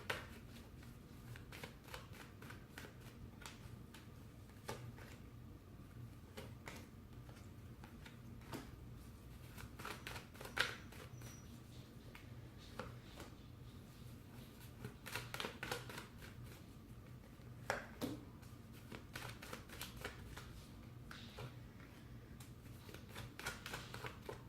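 Tarot cards being shuffled over and over, a steady run of soft riffling and tapping bursts close by, with brief pauses between them.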